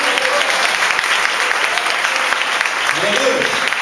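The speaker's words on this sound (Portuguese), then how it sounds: "Nessa hora você devia aplaudir o Senhor" Church congregation at a Portuguese-language service bursting into loud, sustained applause, continuous clapping filling the room with scattered voices mixed in.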